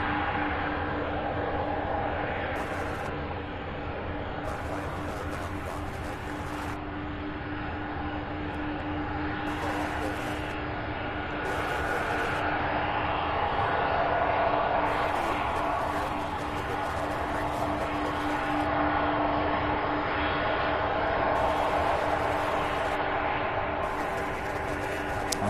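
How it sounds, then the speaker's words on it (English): UPS Boeing 767 arriving at night at Louisville from Kansas City, a low engine drone with a steady tonal hum that swells gradually, while intermittent voices talk over it. "So this is a 76 coming in from Kansas City."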